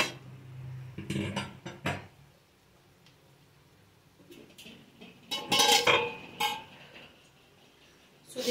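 Potatoes stirred in a pan with a utensil, irregular scraping and metallic clinks in bursts, louder clusters near the middle and a quieter stretch between.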